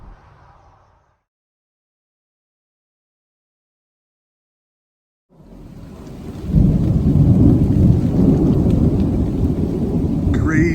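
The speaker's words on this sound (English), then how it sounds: "Crazy thunder right now." Thunder over the Appalachian Trail's roller coaster section in light rain: a quiet stretch, then a deep rumble swells and holds loud and sustained, with rain hissing steadily underneath.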